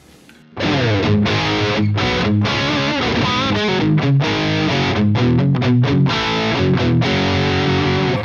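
An electric guitar plays chords and single notes through a Bogner Helios amp in neutral mode with a clean-leaning but slightly gritty tone, loud and alone, no talking.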